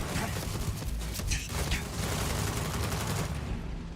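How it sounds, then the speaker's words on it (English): Gunfire in a firefight in the video game Starfield, a fairly quiet stretch of rapid shots and bursts mixed with mechanical clatter. "there was a firefight!"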